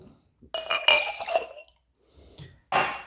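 Pineapple juice and silver rum are poured into a jar, with a few short splashy, glassy gurgles and clinks close by separated by brief pauses.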